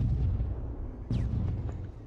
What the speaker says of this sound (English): And now there's explosions again.